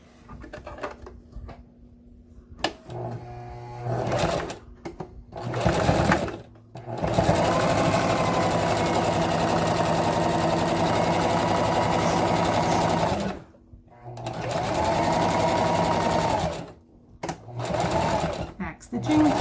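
A domestic sewing machine runs in long steady bursts as it stitches a handbag seam, starting and stopping between runs with brief back-stitching, while a person talks in the pauses.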